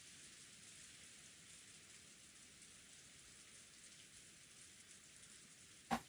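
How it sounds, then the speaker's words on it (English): Steady rain falls as a soft, even hiss throughout, with a single brief knock near the end, in the visual novel game Umineko. "the sound of rain."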